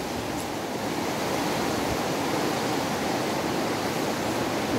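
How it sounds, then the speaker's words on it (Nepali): Water streams and seeps down a steep rock cliff beside a mountain path, giving a steady, dense rushing wash with no pauses and no voices over it. "यता चाहिँ यस्तो पहरोबाट पानी पलाइरहेको छ"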